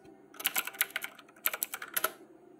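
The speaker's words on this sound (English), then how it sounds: "Now I'll type some numbers to show you how it's done" Numbers typed on a computer keyboard into a spreadsheet, two quick bursts of crisp, close key clicks separated by a short pause, with no speech.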